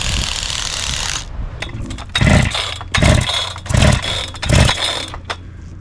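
A large chainsaw at a giant sequoia milling site is pulled several times, each rough mechanical rattle coming in a regular rhythm after a steady running hum cuts off, close and loud, with no voices.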